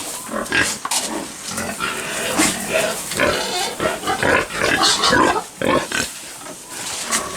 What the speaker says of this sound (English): It's pig feeding time.